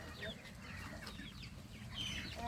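Chickens, including a black one with a fully black face, cluck and chirp softly in short overlapping calls over a low background rumble, faint and close.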